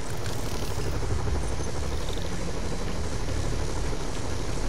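Helicopter in Marvel's Spider-Man, a loud, dense, continuous rotor and engine roar that stays steady and close throughout, with no talk over it.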